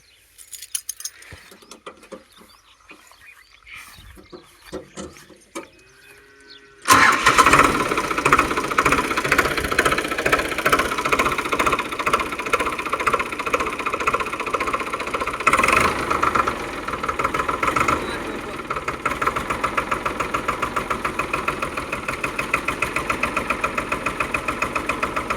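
A Sonalika tractor engine cranks after a few quiet clicks and catches, then settles into a loud, close, steady diesel idle with a knocking, chugging rhythm.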